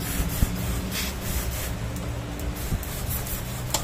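Compressed air hisses steadily from a spray nozzle while a Modena built-in gas stove is serviced, a broad, constant rushing blow with faint scraping and clicks underneath.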